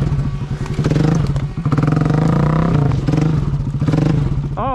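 An off-road ATV stuck on a tree in deep mud revs hard over and over, its loud pulsing engine coming in repeated bursts with clattering and thumping from the machine.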